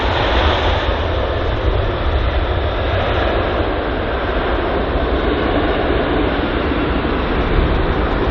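A departing aircraft at London Heathrow roars steadily as a loud, continuous broadband engine rumble that fills the whole clip without any speech.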